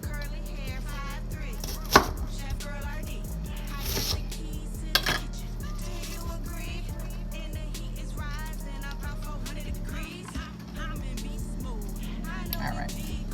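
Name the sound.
chopping onions with a knife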